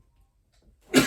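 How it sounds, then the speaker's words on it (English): A single short sneeze bursts out at the very end, close and fairly loud, after a near-silent indoor office pause. "I'm gonna sneeze."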